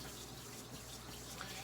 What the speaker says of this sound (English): wetting our hands under warm running water